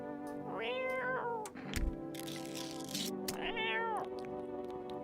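A cat meowing in the video game No, I'm Not a Human, two long drawn-out meows separated by a short burst of noise, loud and close.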